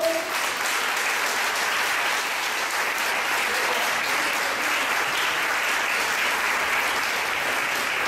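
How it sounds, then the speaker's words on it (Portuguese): Steady, sustained applause fills a church as the congregation claps for the Lord during a sermon, a loud, dense, unbroken roar of many hands. "Se você crê nisso, aplauda o Senhor"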